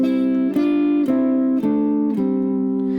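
A guitar plays a short melody in harmonized notes, each new pair plucked with a soft attack and let ring, about five changes in steady succession.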